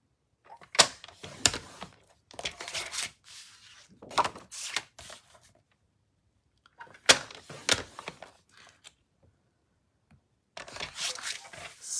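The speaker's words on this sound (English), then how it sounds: "Okay, so we're scoring, not cutting." Paper is scored along its long side at 6 1/4 inches for a mini album, giving quiet, close, repeated scraping strokes in short bursts separated by pauses.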